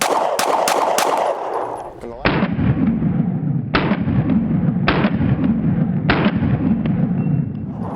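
A Sig P365XL Spectre Comp pistol fires 147 grain rounds at a range: four loud, sharp shots at uneven intervals over several seconds, each ringing out, after a quick burst of earlier reports at the start.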